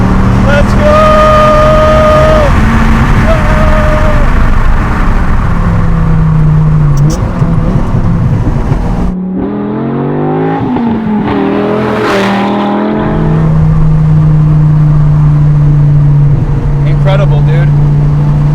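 A V10-swapped Honda S2000 engine revs hard while driving, a loud sustained roar that climbs and falls in pitch through several pulls, with people talking over it.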